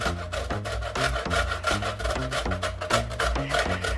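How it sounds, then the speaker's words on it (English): Coconut is grated on the small side of a hand grater, producing rapid rhythmic rasping strokes, about eight per second, steady and close with no voices. "normally we would grate the coconut on the small side like this"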